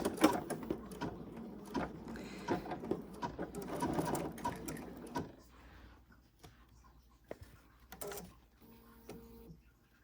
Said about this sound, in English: I think it's going to do a little bean stitch now.